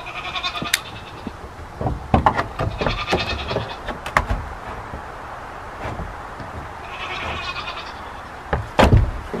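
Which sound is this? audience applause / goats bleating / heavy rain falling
goats bleating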